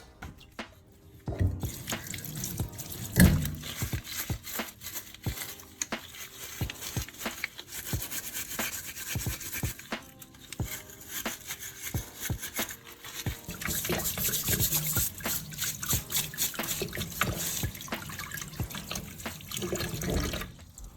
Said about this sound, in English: Rinse it well under clean water to wash off any residue.